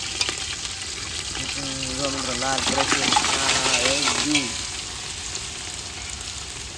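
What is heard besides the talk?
onions sizzling in a pot with a little water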